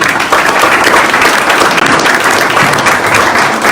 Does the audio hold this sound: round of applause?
yes